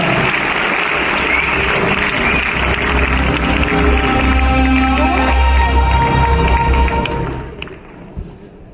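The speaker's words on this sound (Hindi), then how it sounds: "जोरदार तालियों से स्वागत करिए करण सिंह जी का" An audience at a Galway distributors' meeting in India applauds to welcome Karan Singh to the stage, a loud sustained wave of clapping for several seconds that fades out near the end.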